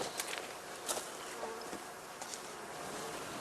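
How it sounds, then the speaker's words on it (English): Honeybees buzz as they stream out of heather skeps on their spring cleansing flight, a faint, steady swarm hum with a few slightly louder passes close by. "Now it is time for the cleansing flight, during which the bees rid themselves of the excreta from their winter feed"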